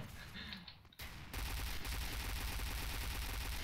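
Rapid automatic gunfire in a first-person shooter, a P90 among the weapons, starting after a brief quieter moment and then continuing as a loud, sustained rattling burst of closely spaced shots.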